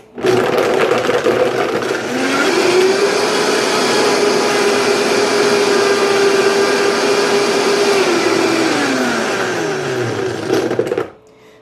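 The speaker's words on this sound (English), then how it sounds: "Put that on the blender again." A blender blending a smoothie with ice whirs loudly and steadily for about ten seconds, spinning up at the start and winding down at the end.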